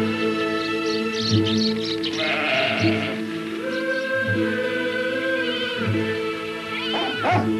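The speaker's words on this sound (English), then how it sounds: "The sheep on the mountain were tended by Philios, a young man whose very name meant friend." Several sheep bleat repeatedly, wavering cries overlapping one another, with a steady low drone underneath throughout.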